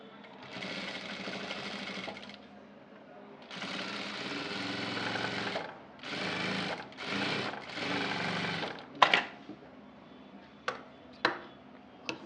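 A sewing machine stitches the back part of a blouse in several bursts of rapid, whirring needle strokes separated by short pauses, followed by a few sharp, isolated clicks as the fabric is handled.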